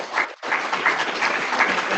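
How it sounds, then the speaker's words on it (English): Audience applause for discussion panelists, a steady, fairly loud burst of many people clapping with a momentary dip near the start, otherwise continuous and without talk. "let's give a round of applause for our panelists"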